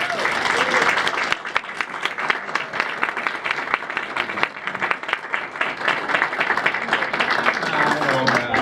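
Loud, sustained applause from a large audience at an opera cast party, dense clapping that holds steady throughout.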